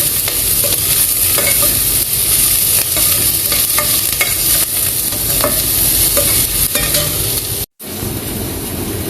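Cuttlefish adobo stirred in a hot pan, a steady loud sizzle of frying with scraping stir strokes throughout, broken by one short gap near the end.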